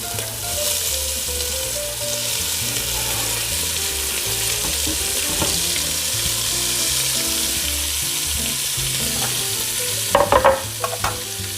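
Cut-up onions sizzle in a pot for zuppa, a strong, even frying hiss with stirring scrapes, then a few clattering knocks near the end.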